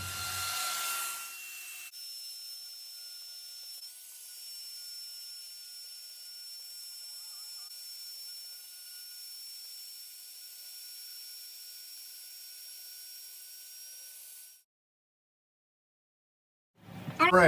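A 2-inch Arbortech random orbital sander with 80-grit paper works a wooden flag, giving a steady, high-pitched whine for about twelve seconds before it cuts off. A few close handling noises come just before and after.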